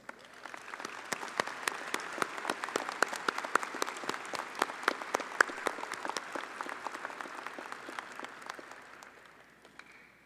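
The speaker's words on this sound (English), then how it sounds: "let's give our incredible faculty a round of applause" A commencement ceremony audience applauds the faculty, with many distinct sharp hand claps forming a moderately loud, sustained round that fades out toward the end.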